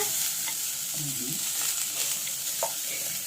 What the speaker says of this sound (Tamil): இப்போ அது இதை வந்து ப்ரௌன் நிறமாக நம்ம வந்து நல்லா வறுத்துக்கலாம்